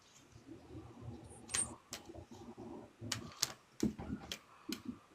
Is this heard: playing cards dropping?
yes